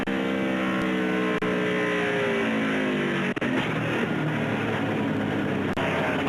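Loud onboard roar of a NASCAR race car engine during practice, the pitch sweeping steadily upward as it revs hard, with a brief dip near the middle and a constant high-volume drone throughout, no talk over it.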